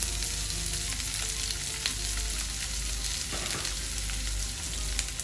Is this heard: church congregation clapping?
no